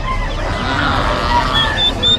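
A two-month-old young turkey calls at a farm, with high thin peeps over a loud, noisy background of other fowl clucking and honking.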